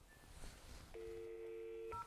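A short sequence of touch-tone telephone dialing, with one long steady dual-tone beep followed by a brief higher tone, heard clearly over faint background noise with no talking.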